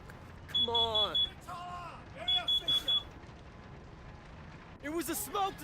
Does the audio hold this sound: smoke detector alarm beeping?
yes